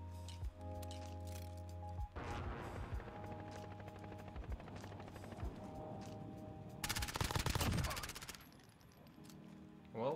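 Light machine gun fire in Call of Duty Warzone: dense, loud rattling bursts through most of the stretch, peaking in an intense, sharp volley near the end before tailing off.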